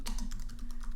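A computer keyboard is typed on in a quick, steady run of close key clicks for about a second while a song title is entered into music notation software.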